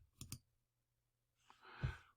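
A computer mouse gives two quick clicks close together, followed by a softer scraping, breathy shuffle of desk noise about a second later. No one talks.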